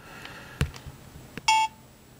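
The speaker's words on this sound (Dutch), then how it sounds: "Doe ik deze camera even uit en dan doe ik hem weer aan." A digital camera, Sony or Casio, is switched off and back on, giving a few soft clicks and then one short, clear electronic beep, close and alone.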